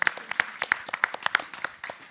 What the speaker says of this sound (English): I want to clap